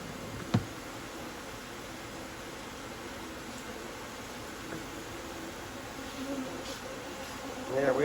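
Dense, steady buzzing of many honeybees around an opened hive during a comb cutout, close and continuous, with a brief knock early on and rustling near the end.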